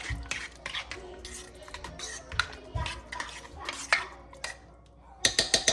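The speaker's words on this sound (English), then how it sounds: "Stir it up." Food seasoned with garlic powder, salt and pepper stirred in a pan, irregular scraping and clinking of a utensil against the metal, close and fairly quiet with brief pauses between strokes.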